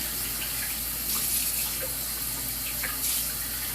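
Hot tap water runs steadily over soapy hands being rinsed, a close, continuous splashing hiss with small shifts as the hands move through the stream.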